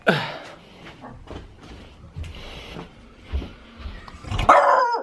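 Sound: dog barking

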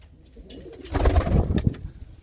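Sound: pigeons cooing

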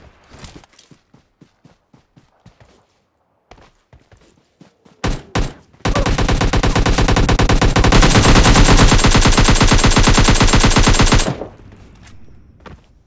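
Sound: gunfire in the video game PUBG Mobile Lite

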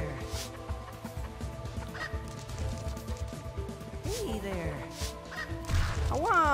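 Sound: chicken from the video game Rune Factory Frontier

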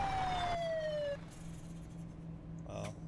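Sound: police siren in video game Arma 3

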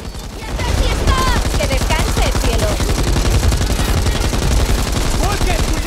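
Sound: gunfire in the video game Back 4 Blood

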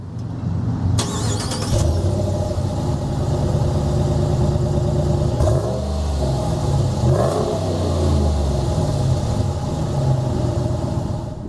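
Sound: new truck engine accelerating while driving

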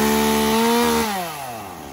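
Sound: petrol chainsaw started and running

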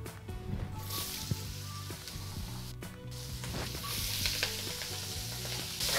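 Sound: vegetables frying in a pot

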